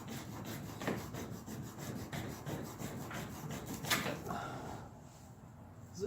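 A Buck 120 General knife works its way through a material with repeated rasping, sawing strokes in a steady back-and-forth rhythm, close but fairly quiet and with no voices.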